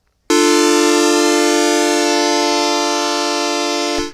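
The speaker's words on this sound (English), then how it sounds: "now you can hear the pulse width modulation" A Dreadbox Medusa synthesizer holds one loud, bright, buzzy note with pulse width modulation, its timbre slowly shifting. The note starts abruptly and sustains steadily for almost four seconds before cutting off, alone with no talking.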